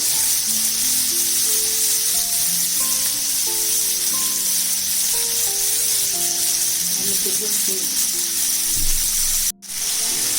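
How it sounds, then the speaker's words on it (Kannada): Tandoori prawns cooking in hot oil on a tawa over a medium flame give a steady soft sizzle, close and continuous, with faint tonal hum from nearby, ending in a brief clatter. "ಈ ಥರ ಮೀಡಿಯಂ ಫ್ಲೇಮಲ್ಲೇ ಬೇಯಿಸ್ಕೋಬೇಕು."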